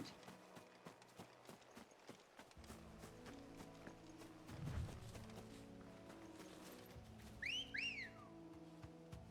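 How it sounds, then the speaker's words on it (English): Two quick rising-falling whistle tones near the end form a cat call whistle in a video game, heard over clip-clopping hooves and busy game sounds. "That was the cat call whistle."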